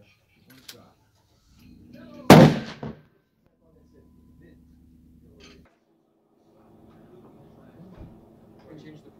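A single loud rifle shot from a Savage 110 Ultralight cracks at a shooting range, then fades into quiet, with faint voices and rustling before and after.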